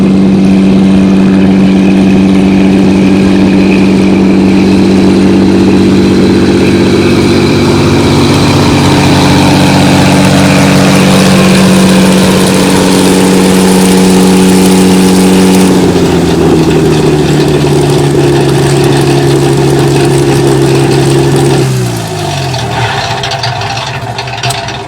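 The engine of a Thunder Mustang air race plane runs steadily and very loud close by, holding a strong droning tone, then steps down in pitch and winds down near the end as it is cut off.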